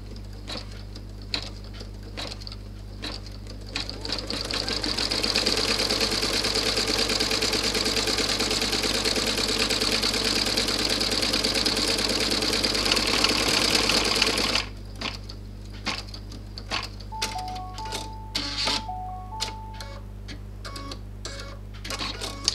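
A sewing machine runs in one long, steady burst of fast stitching while it sews the zip onto a fortune cookie purse. Soft clicks and handling noises come before and after the run.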